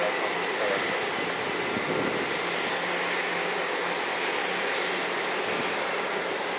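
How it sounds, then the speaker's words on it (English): United Express Embraer E175 jet at night at Cleveland Hopkins airport, a steady broad engine roar with a faint high whine held at constant level throughout, with no talking. "Embraer E175 for United Express"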